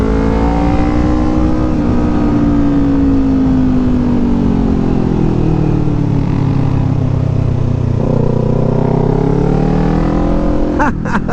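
A Kawasaki motorcycle with a Kawasaki-green aftermarket exhaust is ridden, with another rider nearby. Its engine drones loud and close throughout, and the pitch glides down and up through gear changes under constant wind roar.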